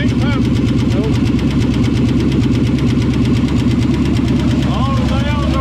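A 1963 Ford Galaxie 500 with its 390 V8 idles up close, a loud, steady, lumpy low rumble with a regular pulsing beat that runs unbroken from start to finish.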